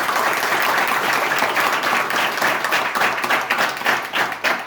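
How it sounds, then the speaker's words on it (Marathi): A school audience at a motivational lecture claps loudly and continuously, a dense, even wash of applause that thins slightly toward the end. "म्हणून यांच्यासाठी एकदा जोरदार टाळ्या झाल्या पाहिजे."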